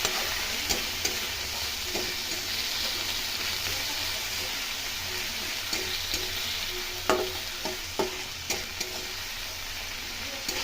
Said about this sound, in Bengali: ভালো করে নেড়ে চেড়ে এটাকে ভেজে নেব